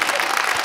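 Studio audience applause on a late-night comedy talk show, a dense steady wash of clapping held at an even level through a very short burst.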